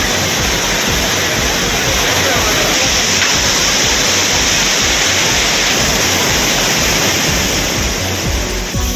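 A waterfall swollen by heavy rain roars in a dense, constant broadband rush, loud and close, with no break in the flow for the whole stretch.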